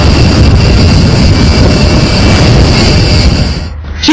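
A B-1 Lancer bomber flies over the South China Sea, a loud, steady broadband roar of jet engines that holds throughout and drops away abruptly at the very end.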